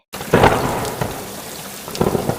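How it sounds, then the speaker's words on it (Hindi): Heavy rain pours steadily, with loud rumbles of thunder at the start and again near the end, close and full, with no voices. "एक दिन तेज बारिश हुई।"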